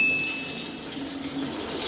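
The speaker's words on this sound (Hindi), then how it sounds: "ये देखें पानी आ रहा है और ये देखें ये इसके अंदर भर रहा है" Water runs steadily into a Dalwance DW 260 ES fully automatic washing machine, a soft continuous rushing hiss heard close with no talk over it.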